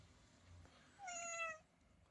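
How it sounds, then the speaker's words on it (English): A cat gives a single clear meow lasting about half a second in an otherwise quiet room, fairly faint and alone. "That's my cat."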